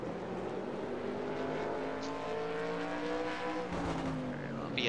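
A race car engine revs and accelerates in a sustained, loud, rising whine with shifting harmonic tones and steady road noise.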